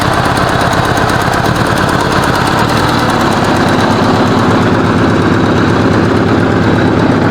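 A 1986 Honda Goldwing GL1200 SE-i idles roughly on low voltage from a failing stator, a loud, close, continuous engine drone with an uneven pulsing beat that goes on without pause.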